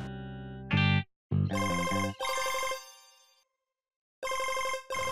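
A mobile phone rings loudly with a bright, electronic melodic ringtone that plays in bursts separated by short silent gaps, with no one talking over it.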